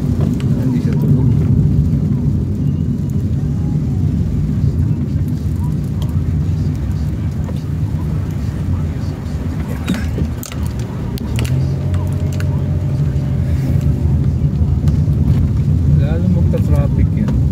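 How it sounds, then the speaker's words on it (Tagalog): Road traffic on a rainy Makati street, a continuous low rumble of engines with passing vehicles and a steady wash of rain, loud and close; a voice speaks over it at times. "Traffic yan."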